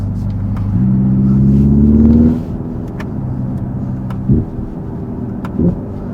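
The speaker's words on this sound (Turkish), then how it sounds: "Bayağı egzoz patlıyor arkada" A Hyundai Ioniq 5 N electric car makes a synthetic engine note that rises and falls while driving, with a couple of sharp exhaust-style pops near the end.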